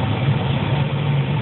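A tractor fitted with auto-steer runs its engine. It makes a steady, loud, low rumbling hum, like idling, throughout, with no talk.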